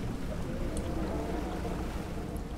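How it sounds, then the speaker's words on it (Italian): Steady wind in the Dredge fishing boat game, a continuous broad whooshing rush mixed with a low rumble like open water, even and unbroken throughout. "Ah, ma questo è il suono del vento."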